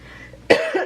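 A single sharp cough from someone with sore ribs bursts out after a quiet moment, close and fairly loud, followed by a brief second catch of breath.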